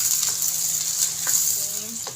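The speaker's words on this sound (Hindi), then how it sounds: "इनको मैं अच्छे से इसमें गोल्डन ब्राउन होने तक फ्राई करूँगी" Two medium chopped onions frying in oil in a pan until golden brown, a steady bright sizzle throughout with occasional stirring scrapes, close and fairly loud, with no talking.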